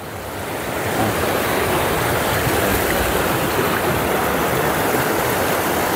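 Water pours over the spillway of the Poço Verde reservoir in Itapipoca, Ceará, a loud, continuous rushing roar that swells in over the first second and then holds steady, with no talk.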